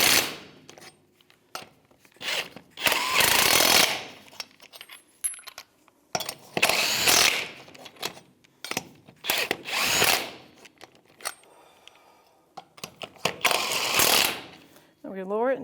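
A power tool zips lug nuts snug on a Ford F-150 wheel, with several short whirring bursts separated by pauses, close and fairly loud, a voice talking between them.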